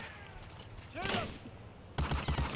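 Gunfire rattles in the World War II shooter Medal of Honor: Allied Assault, with a burst around the first second and a sharper volley of shots near the end, loud against quieter game ambience.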